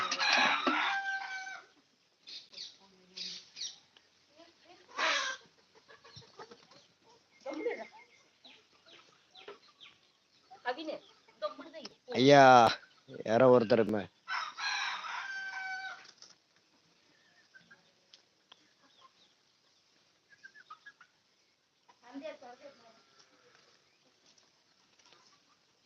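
A country rooster on a farm crows with a long, loud call in the middle, surrounded by repeated clucking and scattered bird calls from other fowl, with brief faint speech near the start.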